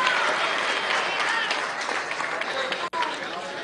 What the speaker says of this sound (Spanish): Aplauso su público, Francisco Quevedo